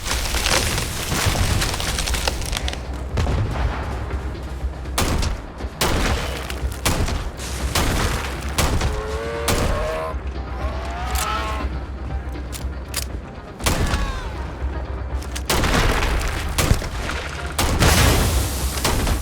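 A run of loud explosions and crackling booms in the Starfield video game, coming in bursts over a dense, continuous noise bed, with a few gaps of relative quiet between the blasts.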